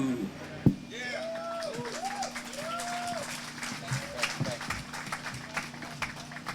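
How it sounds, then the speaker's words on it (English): An audience claps for a singing group at a Selma gathering, scattered applause mixing with a singing voice and talk. "Give them a round of applause."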